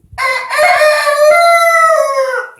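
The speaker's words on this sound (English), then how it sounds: "chickens, roosters especially, they are noisy creatures" A breeding rooster kept in a barn lets out one loud, close, drawn-out crow lasting about two seconds, with no talk over it.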